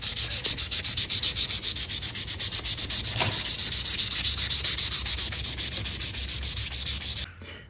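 Steady, rhythmic strokes of fine sandpaper rubbing along a Damascus steel knife handle, close and loud, repeating evenly for several seconds before stopping abruptly near the end.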